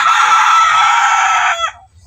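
A rooster crows once, loud and close, a long strained call that cuts off abruptly, followed by faint low background noise.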